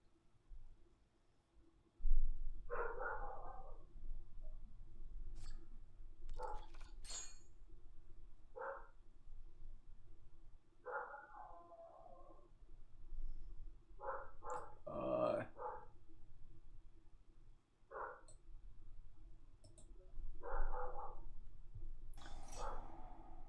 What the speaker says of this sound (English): I am gonna have to go check on the dog in a sec, because the dog is barking.